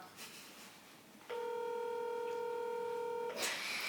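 A phone call being placed, with a steady two-tone dialing signal that holds for about two seconds at moderate loudness, with faint background noise before and after.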